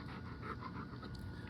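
Dogs pant close by in quick, steady, rhythmic breaths, faint and continuous over a low background hum.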